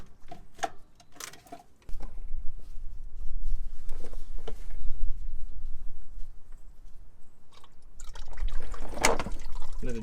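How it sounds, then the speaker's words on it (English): Engine oil drains from a petrol Nissan Qashqai J10 during a service, a steady close pouring and trickling stream that starts abruptly after a few faint clicks and knocks and continues without talk. "Let it drain slowly."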